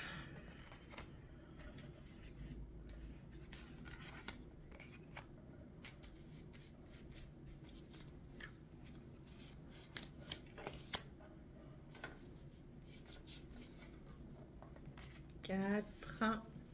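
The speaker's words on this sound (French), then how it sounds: "On va prendre 8 cartes." Tarot cards are shuffled and drawn for a monthly reading, making soft flicks, slides and riffling card noises that stay quiet throughout, with a brief louder burst of shuffling near the end.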